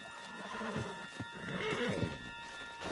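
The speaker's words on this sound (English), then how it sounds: "Put Strauss on the back of John's horse, and let's get out of here." A horse in Red Dead Redemption 2 gives a short, clear whinny followed by snorting and a few hoof clops, moderately close and heard alone.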